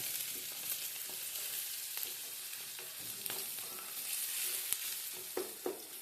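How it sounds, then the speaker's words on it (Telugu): Ginger garlic paste is stirred into a potato chicken curry in a hot pan, a soft continuous sizzle with faint scrapes of the spoon now and then. "అల్లం వెల్లిగడ్డ పేస్ట్ మంచిగా కలిసేటట్టుగా కలిపిస్తున్నాం"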